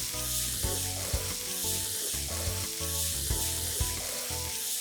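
Sprouted moth beans and mung sautéed with spices and turmeric in a pan, a steady sizzle with rhythmic stirring scrapes throughout, with loud tonal music playing over the cooking sounds.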